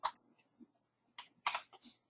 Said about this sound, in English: all I'm doing is typing it in saying block C